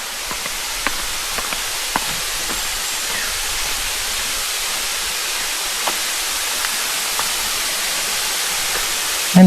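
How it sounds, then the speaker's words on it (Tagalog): Water rushes steadily at Kawasan Falls in Balilihan, Bohol, a loud, dense, unbroken roar of broad hiss that fills the whole stretch, close by, with a few faint clicks and no talk. "ang ganda ng ng lagaslas na tubig"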